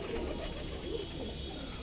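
Breeding Punjabi pigeons coo softly in their loft in Indore, a faint, low murmur under a steady background hum.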